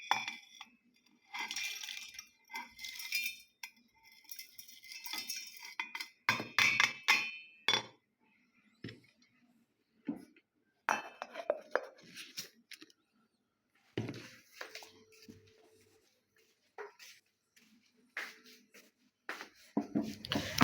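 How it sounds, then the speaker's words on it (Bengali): Whole spices such as nutmeg, mace and black pepper drop into a blender jar in scattered clinks and rattling taps, some bursts sharper and louder, separated by quiet gaps. "এই তো জারটায় ঢেলে দেবো।"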